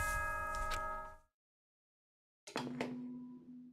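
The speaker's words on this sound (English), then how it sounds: "Ding dong, ding dong." Announcement chime from the video game Danganronpa 2: a bright ringing bell phrase that fades into silence, then a second chime sequence starting after a pause, clear and alone with no talk.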